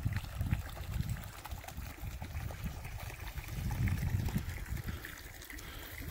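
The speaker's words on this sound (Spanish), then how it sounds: "Esta agua ahí le cae directamente ya al lago que está abajo." A small forest stream flows steadily downhill toward a lake below, its soft, continuous trickle and babble heard close up with gentle swells in volume and no talk.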